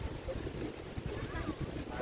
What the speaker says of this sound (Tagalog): Mahangin guys, hindi ko kaya to.